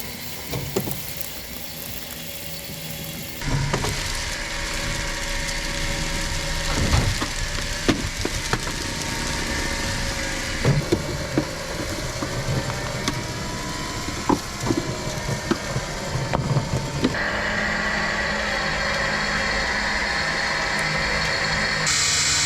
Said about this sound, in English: So this will be the first time I could try this winch out after making some repairs to it.